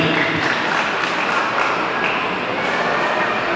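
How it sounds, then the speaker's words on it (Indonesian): A congregation at a church Christmas service claps for Jesus, a dense, sustained applause that fills the room at an even level throughout. "Tepuk tangan untuk Tuhan Yesus."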